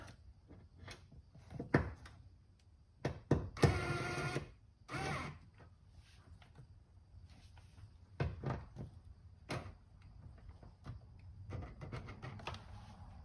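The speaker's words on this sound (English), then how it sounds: "I have a self-tapper that's a little bit bigger, and we'll see if it works a little tighter" A larger self-tapping screw is driven into an existing hole, heard as a series of sharp clicks and ratcheting bursts with a couple of longer grinding runs, close and irregular with no talking.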